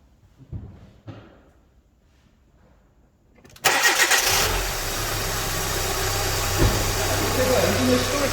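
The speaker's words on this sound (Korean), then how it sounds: "제가 한번 일단 시동을 걸어 가지고 그거를 한번 시연 한번 해보도록 할게요" A car engine with its drive belt under inspection is started after a few faint clicks and knocks, catching with a sudden loud whir that settles into a steady, close idle.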